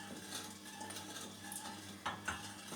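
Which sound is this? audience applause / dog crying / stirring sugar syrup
stirring sugar syrup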